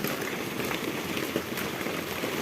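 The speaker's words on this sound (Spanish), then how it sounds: "Están cayendo gotas gigantes con granizo." Heavy hail mixed with giant raindrops during an electrical storm, a dense, steady hiss and patter of impacts close by and fairly loud, continuing without pause and with no voices over it.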